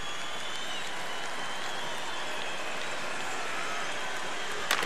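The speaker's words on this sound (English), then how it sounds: "The crowd is all over them right now." Arena crowd cheering in the NHL 15 hockey video game during a Kings home game, a steady loud roar of applause and noise that stays level throughout without speech on top.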